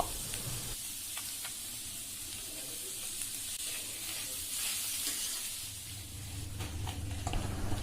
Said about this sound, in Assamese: পিঁয়াজখিনি কেঁচা গোন্ধ যোৱালৈকে ভাজি নমাই থ'ব